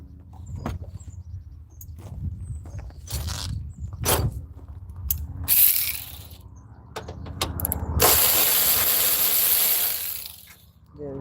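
A ratchet wrench loosens the 10 millimeter bolt by the battery tray of a 2008 Toyota Highlander, giving bursts of rapid clicking with metallic clanks and handling noise, close and fairly loud, with no speech.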